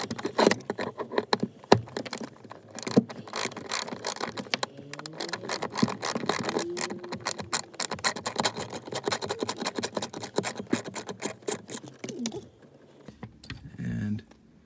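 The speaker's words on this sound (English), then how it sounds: "the first step is to remove the 7mm bolt or hex screw that's in here" Small metal clicks and scrapes of a factory 7mm hex screw being worked out of a Jeep JK mount, a dense run of close tapping and jingling that goes quiet near the end.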